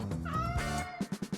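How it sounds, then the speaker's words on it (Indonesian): A cat meows in one drawn-out, rising-and-falling cry, followed by a few short, clipped mews in quick succession, close and clear. "Kucing."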